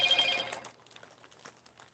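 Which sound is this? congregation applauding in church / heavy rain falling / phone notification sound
phone notification sound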